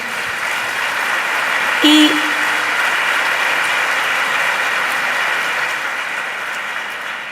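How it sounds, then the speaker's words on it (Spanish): A seated audience applauds at a vocational training event in Spain. Dense, loud clapping holds steady for the whole stretch, with a brief tonal beep early on. "Fuerte aplauso, por favor, para él."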